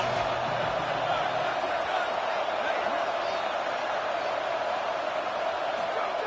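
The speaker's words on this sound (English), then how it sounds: "Decibels rising as the crowd gets behind this defense on third down." A stadium crowd roars at a football game as the defense lines up on third down, a steady, loud wall of cheering noise with a commentator's voice faintly beneath it.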